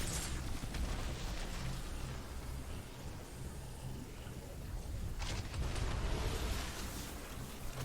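Grenade launcher explosions in Destiny 2 during a solo run of a legendary lost sector, heard as a dense, continuous roar of booming blasts and crackling bursts, swelling near the start and again toward the end.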